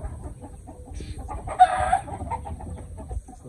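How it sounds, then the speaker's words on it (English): Guinea fowl and chickens cluck and chatter in a yard, with scattered soft calls and one sharper squawk, fairly faint against outdoor background noise. "Got a lot of guinea fowl."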